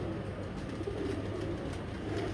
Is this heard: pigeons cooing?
yes